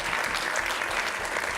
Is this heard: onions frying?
no